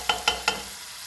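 Stirring and scraping in a pan while rice with pork loin fries slowly, three short scraping strokes close up over a soft steady sizzle.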